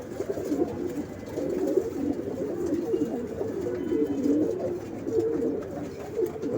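Paired domestic pigeons cooing close by, soft repeated throaty coos rising and falling in overlapping phrases, with no talk over them.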